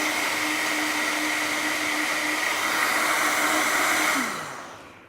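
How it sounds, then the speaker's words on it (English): A Vitamix blender runs at full power whizzing almond milk, a loud, steady whirring roar with a sustained motor whine that holds for about four seconds, then spins down and fades as it is switched off. "we're going to turn our Vitamix on. And then we turn it up to full power."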